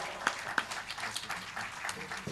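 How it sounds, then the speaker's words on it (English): An audience applauding, a scattered patter of claps with a few sharper hand claps standing out, moderately loud throughout. "A big round of applause for both the youngsters as they come forward."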